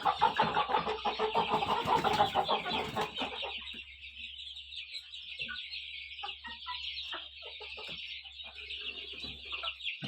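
Chickens and a young white rooster on a small home farm, loud close clucking and squawking from several birds at first, then quieter scattered clucks over a steady background hum.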